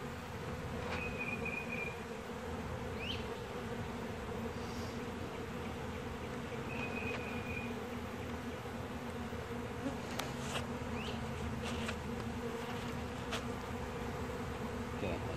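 Honey bees buzz steadily throughout a beehive inspection, a dense, continuous hum close by with no pauses and a few sharper individual buzzes rising above the swarm.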